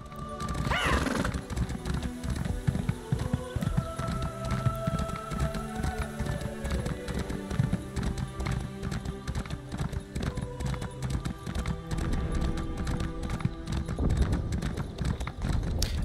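Hooves of a standard horse mount in Elder Scrolls Online on Xbox Series X clatter in a fast, continuous galloping rhythm, with a whinny near the start and game music underneath.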